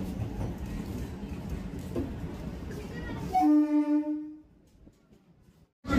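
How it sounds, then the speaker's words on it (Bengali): A Digha–Panskura EMU local train pulls away, its rumble giving way to a long, loud horn blast that fades into near silence before a brief noise returns at the end. "আমাদের ট্রেন কিন্তু ছেড়ে দিয়েছে"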